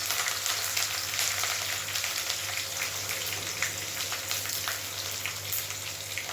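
Mustard seeds, cumin, onion and curry leaves temper in hot oil for a vegetarian dish, giving a steady, close frying hiss with scattered pops and crackles and no talking.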